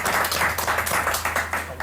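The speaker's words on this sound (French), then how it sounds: "on peut les applaudir" An audience applauds during a Halloween evening show, a short burst of quick, fairly close clapping that stays steady for under two seconds with no voices.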